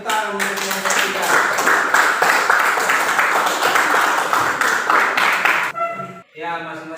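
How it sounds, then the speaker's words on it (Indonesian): A classroom of students applauds a presenting group, dense steady clapping that fills most of the clip before breaking off, with a voice starting to speak at the end. "tepuk tangan untuk kelompok 3"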